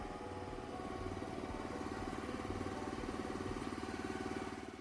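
A firewood processor's engine idles steadily, a low, even mechanical thrum with a quick regular pulse that stays constant and fairly close throughout.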